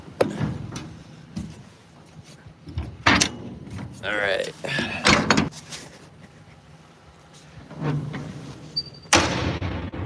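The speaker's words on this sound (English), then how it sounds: "This door right here opens up." A door on farm harvest equipment is opened, with several sharp clanks and metallic latch thuds amid rustling and handling noise; someone speaks briefly in between.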